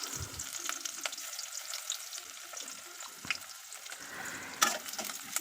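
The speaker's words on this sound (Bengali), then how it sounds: "এবার ওই কড়াইতে তেল দিয়ে আরেকটু পেঁয়াজগুলো ভাজতে দিয়ে দেব।" Onions fry in oil in a wok with a quiet, steady sizzle, broken by a few soft stirring scrapes and clicks.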